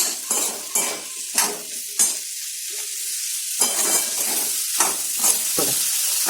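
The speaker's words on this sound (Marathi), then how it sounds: "हे बघा मसाला त्याला मिक्स करून घ्यायचा" Masala is stirred into aloo gobi frying in oil in a pan: rhythmic scraping strokes, about a dozen of them, over a loud continuous sizzle, close up and without talk.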